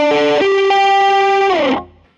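Electric guitar played through an overdrive pedal stacked with a distortion pedal rings out a few saturated notes with long sustain, loud and alone, before cutting off.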